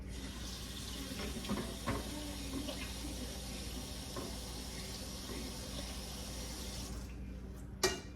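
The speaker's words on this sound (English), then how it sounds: "Let me wash my hands" Tap water runs steadily into a kitchen sink while hands are washed, giving a constant close splashing hiss with small bumps and a clatter near the end as the flow stops.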